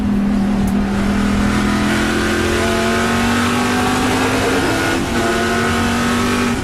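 Trans Am TA2 race cars roar around the Road America circuit, a loud, steady engine drone that rises in pitch as the cars accelerate, with several engines overlapping and no voices heard.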